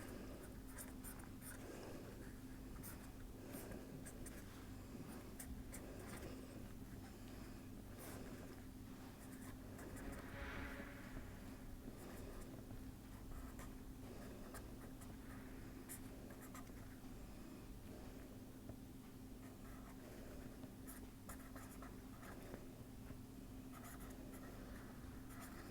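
Chalk or pen writing out equations during a lecture on array pattern synthesis, faint continuous scratching strokes over a quiet room hum with no talking.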